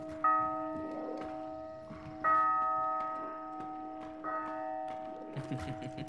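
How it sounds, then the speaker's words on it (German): A church bell rung in the video game Hunt: Showdown, three distinct ringing strikes spaced about two seconds apart, each decaying slowly with a clear tonal ring, fairly quiet, followed by faint footsteps or movement at the end. "Ich mach schon mal die Kirchenglocke an"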